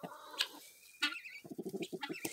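Guinea fowl on a homestead by a chicken pen giving a rapid series of harsh, rhythmic clucking calls close by, following a couple of brief sharp squawks.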